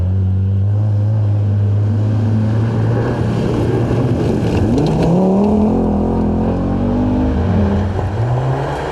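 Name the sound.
rally car driving in forest stage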